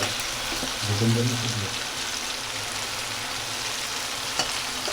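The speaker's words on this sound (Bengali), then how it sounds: "এবার আমি এই কচি নারকেল মানে ডুমড়ো নারকেল এটা কুড়িয়ে নিয়েছি কোরআনিতে আমি এই নারকেল দিয়ে দেব আচ্ছা দিয়ে ভাজবো" Tender coconut, grated young coconut, frying in a pan for a Gobindobhog rice khichuri, giving a steady soft sizzle throughout with a brief louder stir or scrape near the start and a faint click later.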